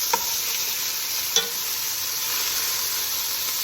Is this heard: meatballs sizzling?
yes